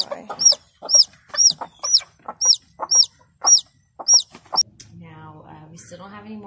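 Broody hens nesting over hatching chicks give a rapid run of close, loud clucks with high peeping chirps, followed by lower, drawn-out purring grumbles toward the end.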